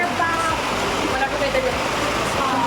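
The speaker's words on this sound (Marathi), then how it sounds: "माय गॉड, पावसाचा आवाज किती येतो" Heavy rain pouring down nearby in a dense, steady roar that fills the short stretch, with people talking over it.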